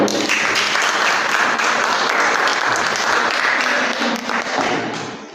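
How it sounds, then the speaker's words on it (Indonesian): A crowd applauds steadily for several seconds, dense clapping that fades slightly toward the end. "Silakan kasih tepuk tangan."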